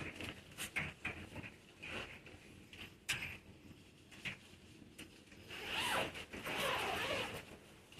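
Zipper on a MirelaArt tent being handled during setup, with repeated short rasping zips and rustling of fabric close by, growing into a longer, busier run of zipping and handling toward the end.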